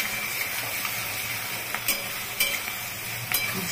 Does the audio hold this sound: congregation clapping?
no